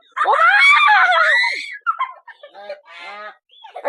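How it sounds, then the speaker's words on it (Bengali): A goose lets out a loud, drawn-out, harsh honk close by while chasing someone, followed by a few shorter broken honks and cries. "আমাকে রাজহাঁস তারা করতে এসছে"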